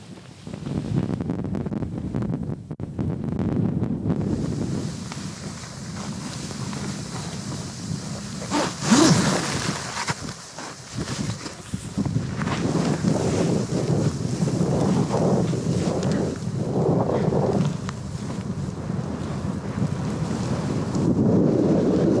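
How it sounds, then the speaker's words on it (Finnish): Light wind buffets the microphone in a continuous low rumble with occasional stronger gusts, heard outdoors on a spring ski trek at Pältsan with no voices. "Kevyt tuuli."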